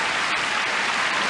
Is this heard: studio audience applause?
yes